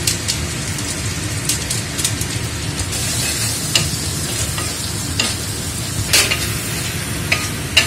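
A spoon stirs chicken curry masala with chopped green chilies in a frying pan, with a steady sizzle and repeated scraping strokes, close and loud with no talking.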